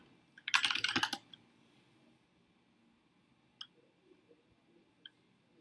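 Quick burst of typing on a computer keyboard while writing Python code, a dense run of clicks lasting under a second, followed by a few isolated key taps in a quiet room.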